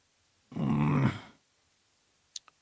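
A man imitates a growl with his voice: one low, rough, throaty rumble lasting under a second, fairly loud and alone, followed by silence and a couple of faint clicks.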